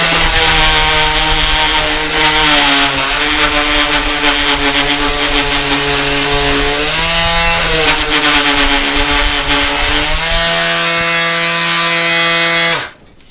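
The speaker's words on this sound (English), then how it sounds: "take a regular palm sander and start with a 40 grit on it" Palm sander fitted with 40 grit paper grinding a copper vase, a loud, close whine that shifts pitch as pressure changes, then cuts off abruptly at the end.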